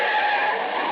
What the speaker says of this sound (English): driver swerved way across the center line, as though he were trying to run us down